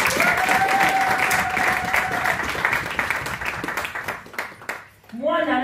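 A church congregation applauds and claps in a dense crowd burst that fades out near the end. Music and voices carry through underneath.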